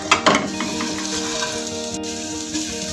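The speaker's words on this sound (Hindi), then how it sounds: "1/2 कप जो ऑयल लिया था उसमें पहले मैंने एग फ्राई किया और अब इसमें डालने लगी हूँ मैं लहसुन।" Garlic sautéing in about half a cup of hot oil already used to fry eggs, for Chinese fried rice: a steady close sizzle with a few sharper crackles and stirring clinks near the start, no talk.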